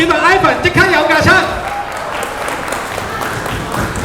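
At a Hong Kong international juggling competition, a voice talks briefly before an audience breaks into applause, a loud wash of clapping that then fades to a softer, steady patter.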